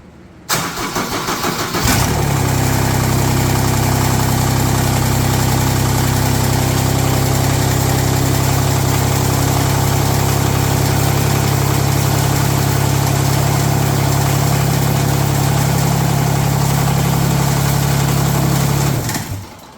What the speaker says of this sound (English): we're going to start the machine up. Let it run for a few seconds, shut it back down